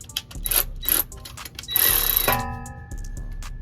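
A Ryobi power tool works at rusted bolts on a truck gas tank, giving bursts of ratcheting, whirring mechanical noise, close by, with short buzzes early and then a longer sustained run followed by a fading hum.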